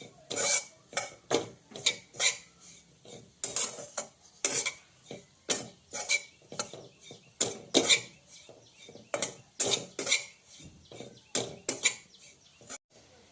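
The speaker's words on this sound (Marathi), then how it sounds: "तुपावरती आपण चांगलं खोबरं भाजून घ्यायचं" Grated coconut roasting in ghee in a pan for ukdiche modak is stirred with a utensil, giving a run of rhythmic scraping and clinking strokes, close and moderately loud with a faint sizzle and no talking.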